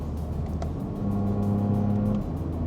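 Low, steady exhaust drone from a catless BMW G80 with an equal-length exhaust, cruising in eighth gear in comfort mode, a continuous muted hum with faint road noise throughout.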